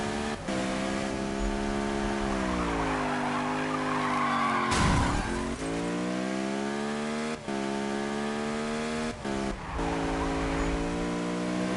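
Car tires skid and squeal almost continuously during a drift in the Need for Speed racing game, with a loud, steady engine drone whose pitch sweeps up and down as gears shift, broken by a few short gaps.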